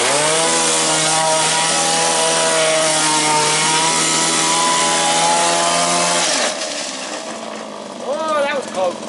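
A scratch-built 1934 Coupe model car spinning donuts, a loud, high, buzzing motor whine holding steady and then dropping off, followed by rising and falling revving chirps at the end.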